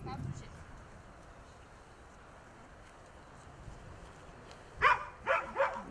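An Akita Inu at an obedience session for aggression toward people stays quiet through a long stretch of faint outdoor background, then gives three sharp, fairly close barks in quick succession near the end.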